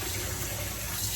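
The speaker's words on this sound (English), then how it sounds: "And just wash our fish with some water first." Tap water running over fish being washed in a sink, a steady close rush of flowing water for a brief moment.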